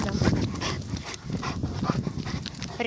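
A dog in obedience training on the place command, heard close and fairly quiet: a continuous breathy panting texture with small shuffling noises.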